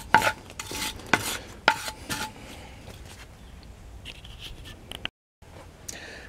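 A wooden paint stir stick scrapes over a corroded aluminum rim after wire brushing, making a few sharp raspy strokes and then softer, lighter rubbing nearby, with a brief silent gap near the end.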